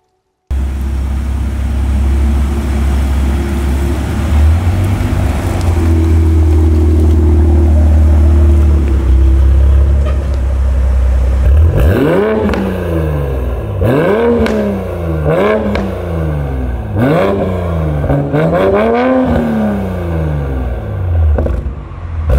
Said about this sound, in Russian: как вам на такой суперкрутой тачке такой выхлоп